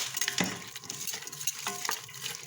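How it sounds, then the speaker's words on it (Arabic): Onions stirred in hot oil in a pan for koshari, a steady sizzle of frying with scrapes of the stirring utensil recurring every second or so, close and alone. "نقلب فيه، نحط عليه حبة ملح ونقلبه لحد ما يحمر"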